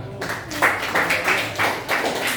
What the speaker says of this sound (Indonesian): Tepuk tangan sekali lagi, tepuk tangan.